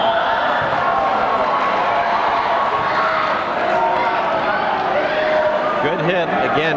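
A crowd at a 1986 Pali vs Malibu volleyball final reacts to a referee's call, a steady loud roar of many voices that swells and then fades out, with a commentator talking over it.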